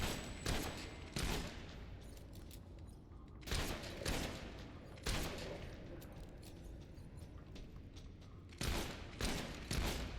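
Bursts of gunfire from the video game Fable III, with sharp repeated shots in clusters over a steady rumbling game backdrop, loud and close, no talking.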